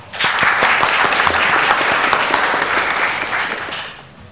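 Loud, sustained applause from an audience at a Korean National Assembly policy forum, dense clapping filling about four seconds before tapering off at the end, with no talk over it.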